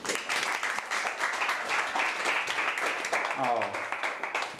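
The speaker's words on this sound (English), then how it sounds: "let's give Will an awesome round of applause" A room of meetup attendees applauds a tech speaker, steady dense clapping held throughout at moderate level, with a brief voice near the end.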